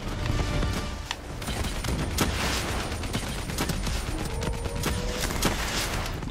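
Continuous heavy gunfire in Call of Duty: Black Ops 3, with dense overlapping shots and rattling bursts that stay loud and steady throughout amid battle noise.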